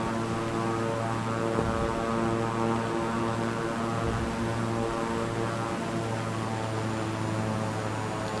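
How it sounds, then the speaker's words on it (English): An aircraft engine with the throttles cut in Microsoft Flight Simulator 2024 gives a loud, continuous droning hum with layered tonal harmonics, steady throughout with no other sounds. "Sounds neat when you cut the throttles."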